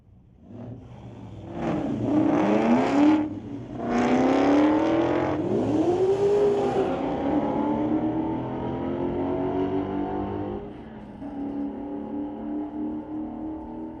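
Street-legal drag cars at Mission Raceway Park, including a Camaro, launch and accelerate hard down the strip, with loud engines climbing through several gear shifts before fading into a steady distant drone.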